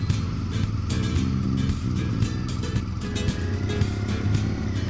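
A car driving through Exmoor National Park in southwest England gives a steady, moderately loud engine and road drone, with no pauses or talk.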